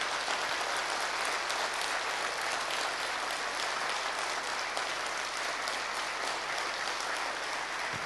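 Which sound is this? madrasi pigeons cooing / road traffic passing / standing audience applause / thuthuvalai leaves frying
standing audience applause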